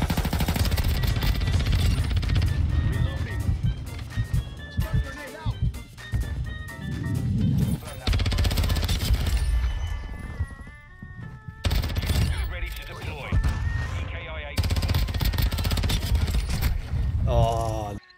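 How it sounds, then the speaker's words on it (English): Heavy gunship fire from an aerial support killstreak in Modern Warfare 2 multiplayer, with dense, loud bursts of automatic gunfire and explosions running almost continuously, along with a player talking over the chaos. "Gunship."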